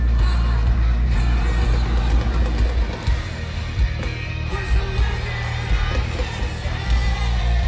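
Live crowd at a concert in Milton Keynes, England, a dense continuous roar of cheers and yells blended with loud band music throughout.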